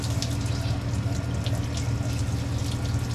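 Coolant pours out of the small heater core of a 1969 Ford F250 as a steady, close wash of splashing liquid over a low hum, continuous for the whole stretch.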